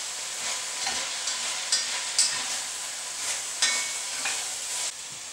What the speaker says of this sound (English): Just going to stir that around a little bit